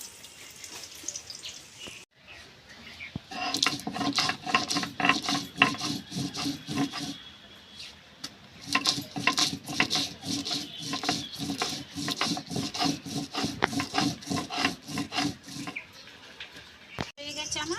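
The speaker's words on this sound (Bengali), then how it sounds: "এটা আমি বেটে নেবো শিলে" Repeated rhythmic rubbing and scraping strokes as mustard seeds and dried red chillies are ground with a stone rolled back and forth over a stone slab, continuing steadily with brief pauses.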